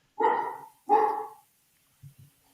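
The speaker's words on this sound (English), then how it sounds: "Whose dog's barking?" A dog barks twice in quick succession, loud and close, followed by two faint low thumps in an otherwise quiet room.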